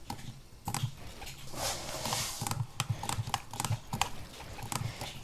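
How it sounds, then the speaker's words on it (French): An Xbox Elite Series 2 controller's back paddles click sharply and close up, in quick irregular bursts of light taps like keyboard keys. "regardez, quand on réédite avec une palette, ça fait comme ça."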